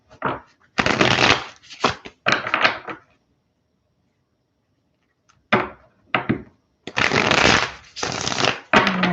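Tarot cards shuffled by hand in quick, close, papery bursts, with a long pause in the middle before several more rapid riffles.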